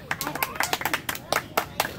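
A group of girls clapping at a pool outing, a quick run of individual hand claps at an uneven rhythm, close by, with voices talking over them.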